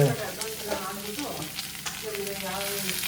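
Egg omelette batter sizzles and fries steadily in a pan, with some stirring, at a fairly close, even level throughout.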